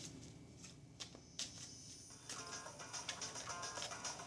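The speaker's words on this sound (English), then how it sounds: "I'm shuffling." Tarot cards are shuffled by hand in a quiet room, soft papery riffles and slaps that come in short bursts and then a denser run of rapid flicks.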